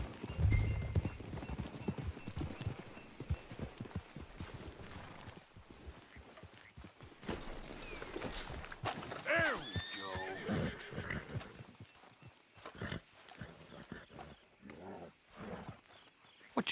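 Horses in the Red Dead Redemption 2 video game clip-clop at a walk, with one clear whinny partway through, all fairly quiet against faint background ambience.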